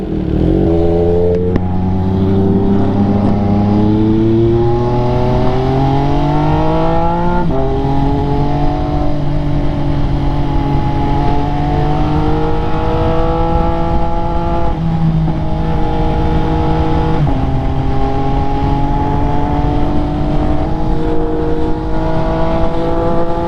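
Mercedes-AMG GT S engine revving, close and loud, climbing through several rising pulls with gear-change drops between them, a continuous throaty growl with no voices.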